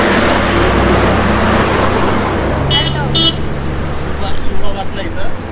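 Trucks start up on a winding Himachal mountain road, with a loud engine rumble and a few short honks, while people talk nearby.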